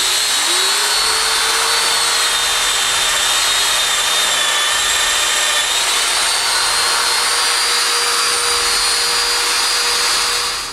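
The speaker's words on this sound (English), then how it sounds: "Then I mark and make all the domino holes which will hold the legs to the base." A loud, steady domino joiner whine runs continuously as it cuts holes in wood, its pitch rising as it spins up at the start, then holding almost unchanged until it cuts off.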